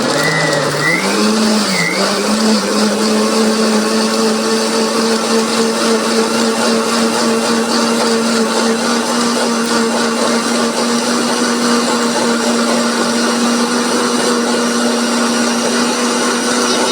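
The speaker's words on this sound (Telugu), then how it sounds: "ఇప్పుడు మిక్సీ వేసుకోవాలా" A mixer grinder blends a watermelon ice cream mix with milk and sugar, its loud, steady motor whine running continuously, briefly wavering in pitch at the start before settling into an even drone.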